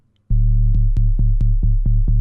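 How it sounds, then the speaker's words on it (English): A synth sub-bass pattern loops in a tight, bouncy rhythm modeled on SpongeBob's laugh, a loud low drone pulsed by sharp, evenly spaced clicky attacks, playing alone without any voices. "I've made a sub pattern that kind of follows the same rhythmic movements of the sponge"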